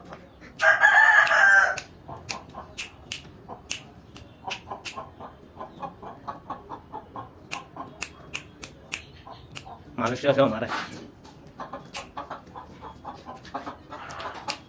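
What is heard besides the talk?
Serama chickens, world's smallest chicken breed, crowing and clucking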